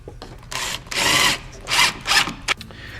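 Power drill driving a stainless steel screw into a patio door frame, several short bursts of whirring, close and loud, with brief pauses between them.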